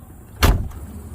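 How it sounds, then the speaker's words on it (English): A car door slams shut on a 1989 Lincoln Mark VII Bill Blass edition: a single solid, close thud with a short low rumble trailing off, and no voices. "as soon as you shut the door, the system will go back to normal automatically"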